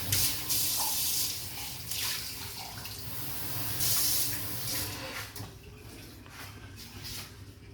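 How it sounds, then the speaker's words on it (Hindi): Half a glass of water poured into cooking meat for shami kebab, a steady splashing, hissing stream heard close and fairly loud throughout, tapering off near the end with no talk. "तो इसलिए मैं इसमें थोड़ा सा पानी डालूंगी।"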